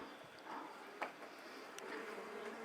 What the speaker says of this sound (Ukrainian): Жужалки мої жужать тут на всю.